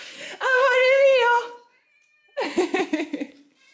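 A house cat meows twice, a long drawn-out call followed after a pause by a shorter wavering one, close and loud in an indoor setting.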